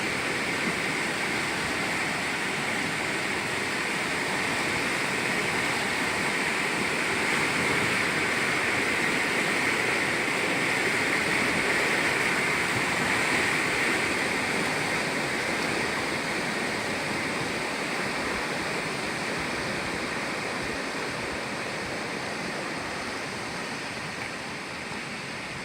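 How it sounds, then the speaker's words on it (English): Rushing water of the Robson River near Mount Robson along the Berg Lake trail, a loud, steady broadband roar with no break, close by and alone for the whole stretch. "Robson River, baby."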